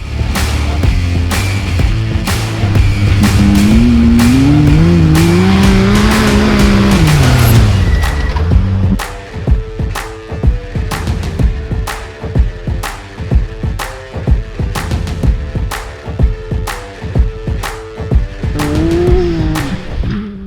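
Race cars lapping the Bencubbin track during qualifying: a loud, sustained engine roar rises and falls as a car passes close, then a rapid series of sharp repeated revving bursts and gear changes continues.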